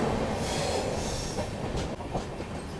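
The 16551 Chennai–Ashokapuram Express runs toward Perambur with a steady, loud roar of wheels on rails, faint squealing and clatter throughout.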